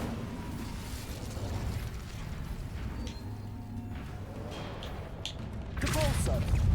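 An Incendio fire spell is cast in the video game Hogwarts Legacy, heard as a rough fiery whoosh with a loud burst near the end over a steady bed of game noise and music.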